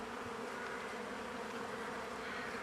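Honeybees swarm around a backyard barbecue where they come to drink, making a steady, dense buzz of many wings that fills the whole stretch without pause.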